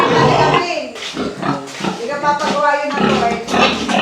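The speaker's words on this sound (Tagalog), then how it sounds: "So maraming alagang baboy." Domestic pigs on a farm in Bicol grunt and oink continuously at close range, several animals overlapping in a loud, steady chorus.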